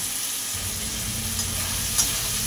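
Ridge gourd curry sizzles steadily in a pan as coriander powder is stirred in, a continuous close frying hiss with soft scraping of the spoon and a faint clink.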